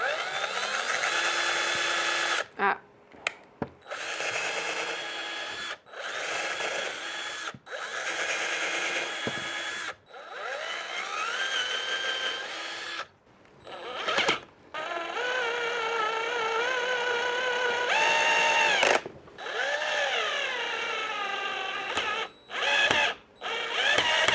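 A power drill bores holes into a velvet-upholstered thrift-store chair during a boho makeover. Loud whining bursts repeat with short pauses between them, and no one speaks.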